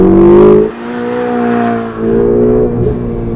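Ferrari 488 GTB twin-turbo engine accelerating hard in manual mode, a loud rising roar that drops with a quick upshift, climbs again, and shifts once more, close and without talk.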